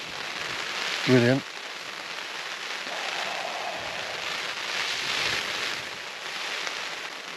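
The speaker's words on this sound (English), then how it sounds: "But this wasn't meant to rain." Rain patters steadily on a Naturehike tent pitched as a tarp shelter outdoors, a dense hiss close by, with a brief spoken word near the start.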